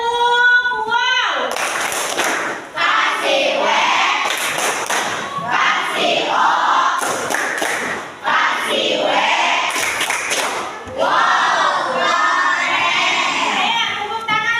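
A class of children performs a rhythmic group clapping chant, the tepuk wow, for group 1: bursts of claps and thumps alternate with loud shouted chanting voices, close and lively.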